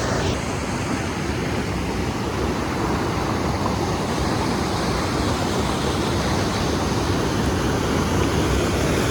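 Steady, loud broadband rush of water from the Ajay river waterfall at Illambazar, a continuous roar filling the scene without pause and with no voices.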